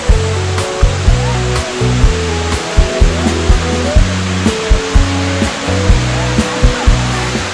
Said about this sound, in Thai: บริเวณในส่วนนี้นะครับก็จะเป็นบรรยากาศของน้ำตกแม่คำปองชั้นแรกนะครับ